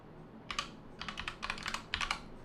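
Quiet, quick typing on a computer keyboard, bursts of light key clicks with brief pauses between them.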